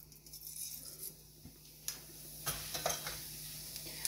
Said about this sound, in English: once the ghee is hot, all I do is I add about 1 teaspoon of jeera